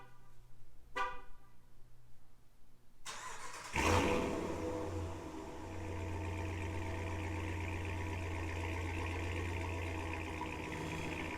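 A Ram Rebel truck with a Corsa Extreme catback exhaust and resonator delete starts up: a brief starter crank, then a loud catch and a steady, deep exhaust idle that settles and drones on.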